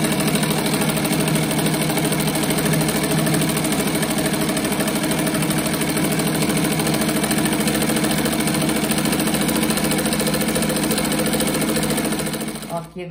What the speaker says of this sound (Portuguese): Agora eu vou passar mais uma costura, encostando o pé da máquina na primeira costura ali.